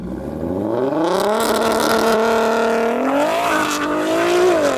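A loud, tuned Audi S3 with a swapped 3.2-litre turbocharged V6 making 950 horsepower launches in a drag race. The engine revs climb sharply, hold in a steady roar, then rise again through quick gear changes.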